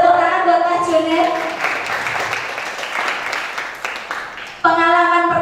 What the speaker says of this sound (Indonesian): Boleh tepuk tangan buat Mas Junet.